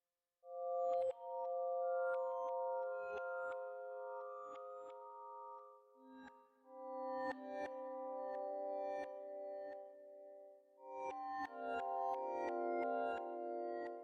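Reversed synth or instrument notes processed with Kiloheart's reverser plugin and no reverb, dry tonal chords that swell and cut off abruptly in a choppy, stepping pattern against silence.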